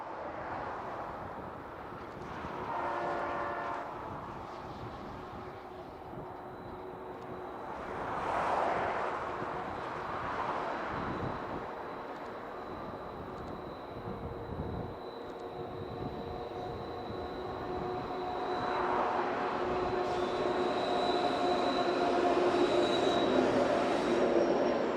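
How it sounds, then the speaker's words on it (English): A CPKC AC-44 locomotive leads an eastbound Montreal-bound intermodal train downgrade on the south track, a sustained rumble of rolling cars with faint wheel squeal and tonal whines, heard from trackside at moderate distance. "AC-44 locomotive number 8557 is seen leading the eastbound 112 on the south track."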